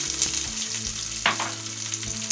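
Chopped onion hits hot oil already holding cooked garlic, green chilli, cumin and fenugreek seeds for a cabbage sabzi, giving a steady loud sizzle with a brief burst of crackle midway and faint stirring, no voices.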